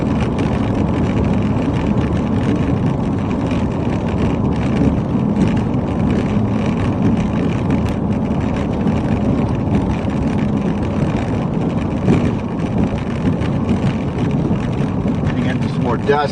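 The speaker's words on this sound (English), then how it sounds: "Very, very strong winds out here today." Very strong, gusty wind outdoors in the Southern Plains near wildfires, with dust blowing. It makes a loud, continuous roaring rush that buffets the microphone throughout.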